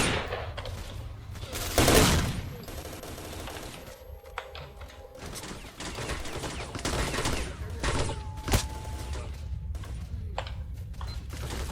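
Bursts of rapid gunfire crackle and rattle in the video game S.T.A.L.K.E.R.: Shadow of Chernobyl, a loud volley early on followed by scattered shots and mechanical clatter.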